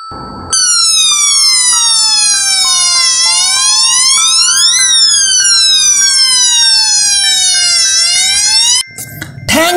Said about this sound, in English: Fire engine. This is a fire engine.